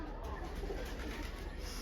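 Pigeons in a loft or coop give soft, low cooing over a steady muffled background. The calls stay faint and continuous.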